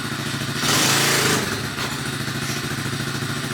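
A Chinese dirt bike engine runs close by, a steady loud chugging rumble with a brief surge of noisy revving partway through, no voices.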